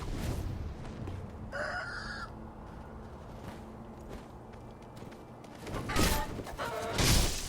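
A chicken clucks in a video game, a short burst of bright clucks amid a busy ambient bed of rustling and footsteps, followed by heavier thumps.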